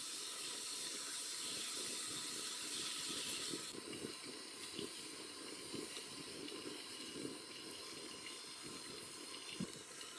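Wood steaming in a vessel while being made into activated charcoal gives a continuous soft hiss with faint bubbling and crackling, steady and moderately close, with no talking.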